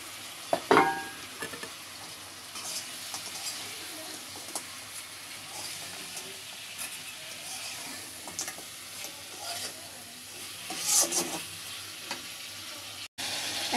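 Previously fried fish is added to a sizzling spice masala with tomatoes in a pan, a quiet continuous sizzle with occasional soft clatters and stirring knocks, no talk.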